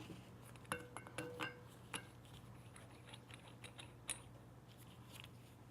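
Metal oxygen regulator fitted onto an oxygen cylinder's pin-index valve, giving a few sharp metallic clicks and clinks, close and quiet, over a steady low hum with no talking.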